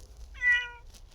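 A single cat meow, played back from a Google search result, rises and falls briefly and clearly over a faint low hum in an otherwise quiet room.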